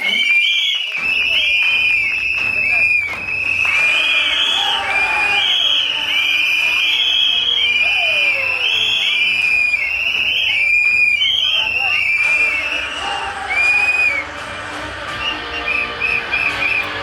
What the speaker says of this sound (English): Could you please give them a round of applause as they take the stage with me?